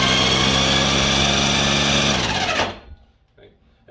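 Snow Joe 100-volt iONPRO 24-inch cordless snow blower running at max speed, a loud steady electric motor whine that cuts off sharply after about two and a half seconds, leaving quiet rustling.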